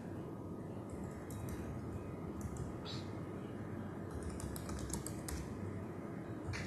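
Rapid, faint keystrokes on a computer keyboard patter in irregular bursts over a steady room hum, with no talking.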